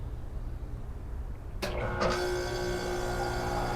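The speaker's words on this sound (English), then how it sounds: "excuse the loud air condition" Loud air conditioner running in a hot Florida garden, a low background hum that swells abruptly into a steady, louder whirring drone with a sharp click at its start and a sustained tonal whine.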